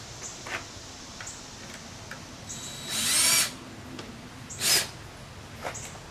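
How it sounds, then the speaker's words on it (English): A power screwdriver driving a screw through a plate on a car stereo test bench while the nut is held by hand, two short whirring bursts with faint ticks and clicks between them. "I'm just going to hold the nut and screw this in"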